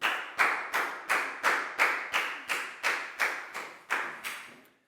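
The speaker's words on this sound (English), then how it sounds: "Big round of applause for Pangpon" Classroom applause for a student: about a dozen evenly spaced, sharp rhythmic claps in unison, close and crisp, ending abruptly.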